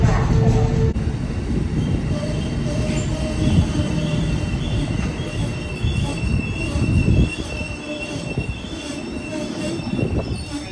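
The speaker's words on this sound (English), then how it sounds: "This must be Amtrak Northeast Regional on 93." An Amtrak Northeast Regional train passes in New York, its wheels squealing in high, sustained metallic tones over a loud, rumbling rush of rolling rail cars.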